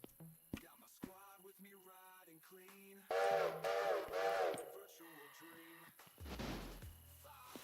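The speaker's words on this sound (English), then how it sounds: "Why did the whistle sound so far away? The locomotive's right there." A steam locomotive whistle in the video game Railroader, sounding as if from a distance, blows in a few tonal blasts of varying length, with voices heard around it.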